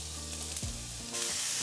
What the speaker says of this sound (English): Once the oil is nice and hot, add your chopped vegetables.